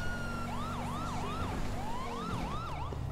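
Police siren in Grand Theft Auto V wailing continuously in repeated rising and falling sweeps, loud and close over a steady engine drone, with no talking.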